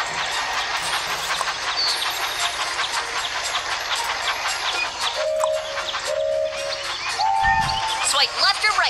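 A train in a mobile video game runs along a track through sharp curves, giving a steady rolling clatter that lasts throughout, with a voice and game sounds over it.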